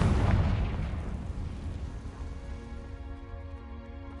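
A Confringo blast spell explodes in Hogwarts Legacy, a loud booming burst that decays into a rumbling, crackling tail with lingering tonal hum over about four seconds.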